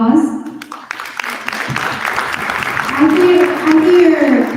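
An audience at a youth human rights summit claps in a short burst of applause, with a speaker's voice over and around it.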